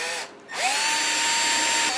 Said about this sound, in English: I've got that drill bit lined up on that center mark.